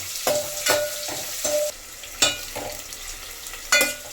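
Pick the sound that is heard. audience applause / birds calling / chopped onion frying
chopped onion frying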